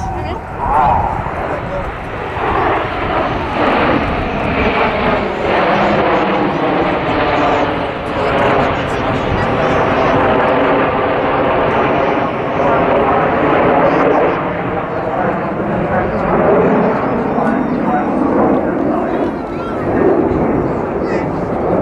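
Jets of an aerobatic display team at the RAF Cosford Airshow roar steadily overhead with a loud, wavering, sweeping rush, while a commentator talks over the noise throughout.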